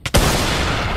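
A single sharp gunshot in the video game Squid Craft Games bursts out after a short quiet moment, then a loud rumbling roar lingers and fades slowly.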